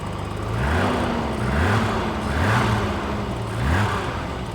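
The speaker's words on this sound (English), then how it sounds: "I'm actually amazed right now at how nice this car runs." A 1980s BMW 635CSI engine idles steadily after being revived from a crank-no-start condition, with a smooth low hum that swells gently about once a second.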